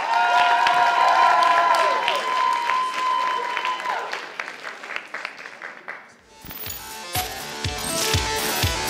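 Audience at a solo cosplay contest at a convention applauds a contestant, a dense burst of clapping and crowd noise that swells across the first half, thins, then returns loud and mixed with music after a short lull.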